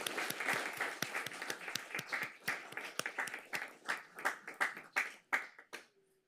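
Audience applause at a Santa Monica City Council meeting: steady, dense clapping from many hands in a hall, holding for several seconds before thinning into separate claps and stopping.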